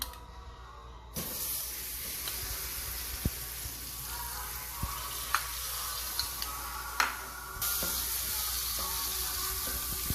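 Butter sizzling in a pan over low-medium heat while cooking prawns with corn, a steady crackling hiss that jumps louder after a second, with scattered sharp pops throughout.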